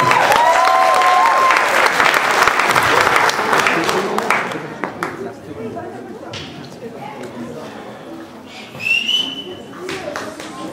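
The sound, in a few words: loud audience applause for Raki at an Easter program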